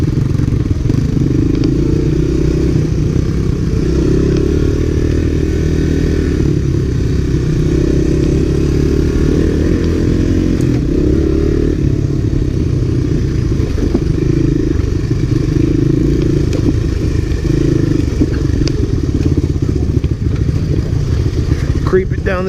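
Honda Big Red and ATC250SX three-wheeler trikes from the mid-1980s ride a rocky trail together, their engines droning steadily and loudly throughout. Clatter and scraping from the terrain mix in, and someone talks over the engine noise.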